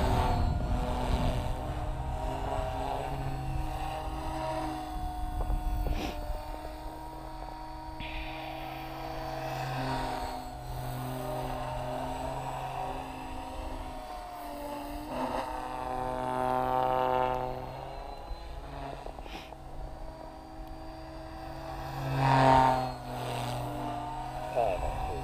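A Goblin 380 RC helicopter hovers low on a cold winter day, a steady whining rotor and motor drone holding fairly constant with slight swells, near and moderately loud.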